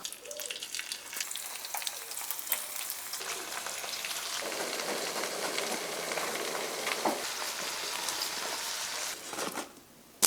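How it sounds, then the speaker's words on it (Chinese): Cleaned large shrimp fry in a pan with a steady, close sizzling hiss and occasional light stirring scrapes, then the sound briefly drops away near the end. "收拾好的虾煎一下。"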